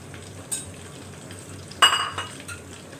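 Sausages frying in a pan for a packed work lunch, a soft steady sizzle with a few brief clinks of a utensil against the pan, heard close with no talk.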